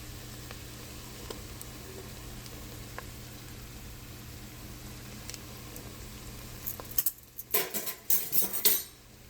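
A spoon clinks and scrapes around a soup pot while flour is stirred in, a few sharp metallic taps near the end over a steady background hiss.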